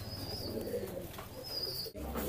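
Fancy pigeons coo softly in low, repeated murmurs, with a few faint high chirps above them in a quiet setting.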